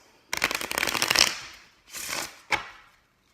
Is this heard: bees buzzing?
no